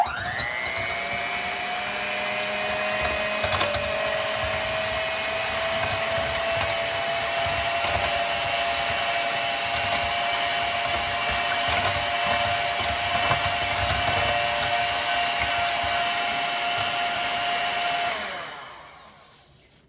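An electric hand mixer beats eggs for an apple cake batter, a steady high whine running loud and unbroken for about eighteen seconds before winding down and stopping.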